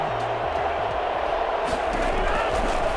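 Stadium crowd noise from Madden NFL 21, Saints versus Packers, swells after a big play, a broad cheering roar continuing under a commentator's voice with a few low thumps early on.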